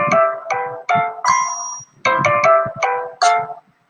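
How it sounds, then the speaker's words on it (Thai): Default incoming-call ringtone of the LINE messaging app: a bright, bell-like electronic melody in short repeated note bursts, two phrases of rising chimes, loud and clear with no talk. "เสียงเรียกเข้าที่เราคุ้นเคยกันคือตัวนี้นะครับ จะเสียงแบบนี้"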